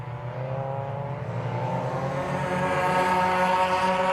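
Mazda MX-5 SuperCup race cars run flat out at Anglesey, a loud steady engine drone building and rising in pitch through the whole stretch.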